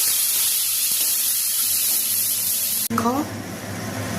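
Chopped onion and tomato fry in hot oil, giving a loud, even hiss that holds steady and then drops off suddenly, followed by a short voice and quieter background.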